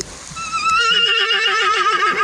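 Belgian draft horse giving a loud, close whinny that rises into a long, wavering neigh lasting about two seconds, heard alone without talk.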